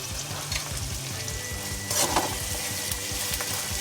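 Frying in a pan for a ripe mango gojju, with salt added: a dense, steady close sizzle with scraping stirs and a brief louder burst of hissing midway.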